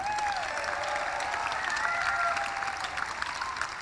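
A graduation audience at a South Whidbey high school ceremony claps steadily after the graduates' names are read, a dense, even wash of applause that holds at full strength throughout.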